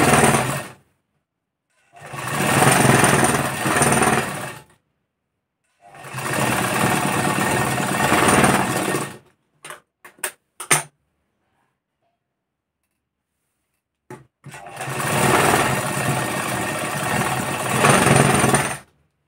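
Sewing machine stitching a blouse sleeve, running in several loud sustained bursts of a few seconds each, broken by short stops and a few quick clicks or taps between runs, with no talking.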